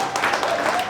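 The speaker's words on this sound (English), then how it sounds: "How about another round of applause?" Audience applause at a community networking talk, a short burst of dense clapping with voices mixed in underneath.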